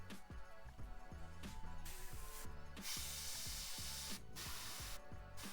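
An airbrush sprays paint onto a Kingdom Death miniature in short hissing bursts, each pull of the trigger separated by brief quiet, close and soft, with a faint mechanical clicking between sprays.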